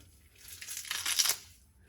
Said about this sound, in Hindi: और हरा धनिया ऐसे हाथों से तोड़ के ना।